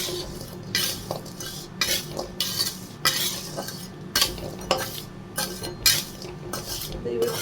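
Jackfruit seeds roast in hot salt in a pan, stirred with a metal utensil that gives repeated rhythmic scraping and rattling bursts about every half second over a faint sizzle, close up.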